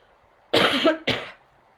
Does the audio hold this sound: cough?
yes